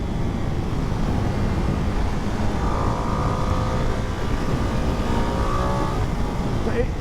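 A 2025 Ducati Panigale V2S sports motorcycle ridden on the road: a dense, steady engine drone mixed with heavy wind rush, holding level throughout with a brief rise in engine tone near the middle.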